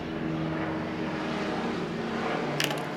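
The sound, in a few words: helicopter flying by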